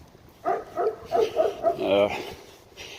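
A wolf-dog on a walk in rural Russia gives a run of short, yelping barks and whiny vocal bursts, close and fairly loud, ending with a breathy exhale.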